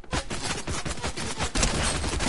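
An MK Alpha rifle in a video game fires rapid, continuous automatic bursts, loud and close, with a brief pause and then a heavier renewed volley, with no talk over it.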